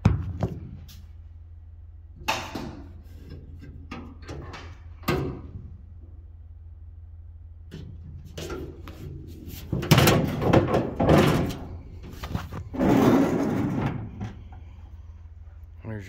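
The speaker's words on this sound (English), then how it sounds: "Let's see if we can get the hood open here." The hood of a 1953 Ford F100 pickup is worked open with scattered metallic clunks and rattles, a louder thump and creak near the end, close by with quiet pauses between.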